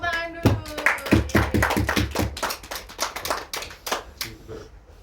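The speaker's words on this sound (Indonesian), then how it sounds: "tepuk tangan dulu." A small student group claps hands together during a group guidance session, a run of distinct, roughly rhythmic claps close by, loosening and thinning toward the end, with a voice briefly heard at the start.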